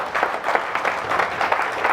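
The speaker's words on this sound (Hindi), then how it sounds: "दोस्तों, आप सही जगह पर एक बार जोरदार तालियां अपने लिए बजाइए।" An audience at a motivational talk claps loudly in a dense, continuous burst of applause.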